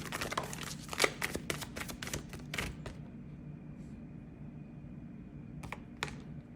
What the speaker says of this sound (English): Let's just pull some more cards.